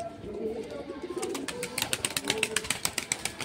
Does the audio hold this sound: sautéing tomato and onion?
no